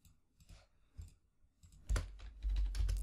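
Quiet clicks of a computer keyboard as Python code is typed, starting sparse and soft, then quickening into a louder, denser burst of keystrokes.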